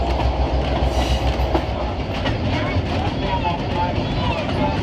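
Heritage train at the Florida Railroad Museum, with a rebuilt 1920s Seaboard coach and a Seaboard Coastline caboose, rumbling steadily along the track with a low continuous roar, faint wheel clatter and occasional clanks, a voice talking over it.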